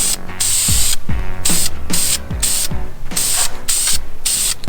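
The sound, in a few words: spray painting headlight with satin black engine enamel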